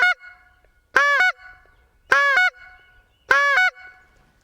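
Four loud, evenly spaced goose honks from a short reed goose call, each a short two-part reedy blast separated by brief silences.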